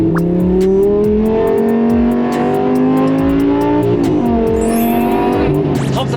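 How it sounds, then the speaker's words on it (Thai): A naturally aspirated Lamborghini engine with a single-clutch gearbox screams loudly and steadily, its pitch climbing through the gears with brief dips at each shift, close and prominent. "ความเอนจอยในการได้แผดเสียงเครื่อง NA จับคู่กับเกียร์ซิงเกิลคัทอะ"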